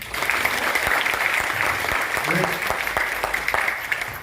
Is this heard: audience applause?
yes